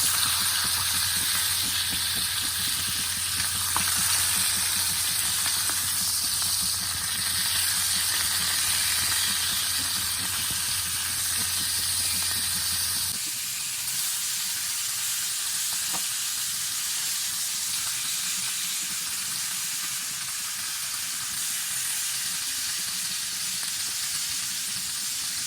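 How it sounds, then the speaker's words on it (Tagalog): Chicken pieces for adobo fry in a pot with a steady, dense sizzle and hiss that stays close and constant, with a low hum dropping away midway while the crackling frying goes on. "Antayin lang natin na medyo mag-brown ang ating chicken bago po natin baliktarin."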